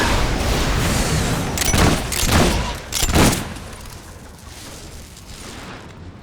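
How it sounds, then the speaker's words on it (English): Gunfire in the video game Fable 3: a few heavy booming shots or volleys in close succession over a dense, noisy battle backdrop, with no talk. "The scumbag's shooting at us!"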